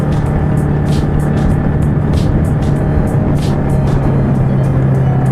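A Yamaha Mio Sporty motor scooter hums steadily while riding, its engine drone constant and loud with a low tone and rushing road and wind noise, no talking.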